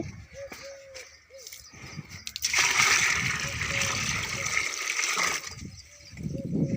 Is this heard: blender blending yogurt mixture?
no